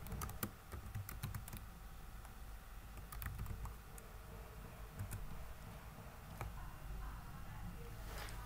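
Rapid keystrokes on a computer keyboard as a command is typed into an Ubuntu terminal, irregular clicking bursts with a few sharper key taps, close and fairly quiet, alone without speech.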